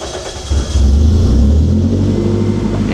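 A Toyota MR-S engine runs loud and close while driving, its low rumble swelling as it picks up revs after a moment, then holding a steady drone.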